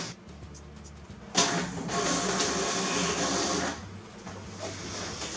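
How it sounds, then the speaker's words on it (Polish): A network printer on a LAN printing a page: a short mechanical startup, then a loud sustained whirring and feed noise for a couple of seconds before it settles back to a quieter hum. "Klikamy drukuj i powinniście już usłyszeć drukowanie."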